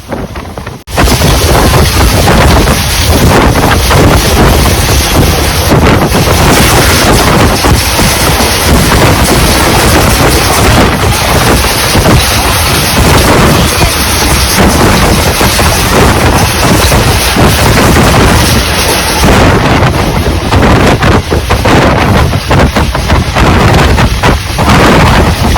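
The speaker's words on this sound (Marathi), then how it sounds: "पाण्याच्या वरती ब्रिज बांधलं आणि ब्रिजवरून ट्रेन चालली" A MEMU train from Borivali to Gholvad crosses a bridge above water near Vasai Road. It is heard from on board as a loud, continuous roaring rumble, heavily buffeted by wind against the microphone.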